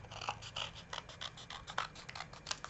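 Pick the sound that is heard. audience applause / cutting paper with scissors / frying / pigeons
cutting paper with scissors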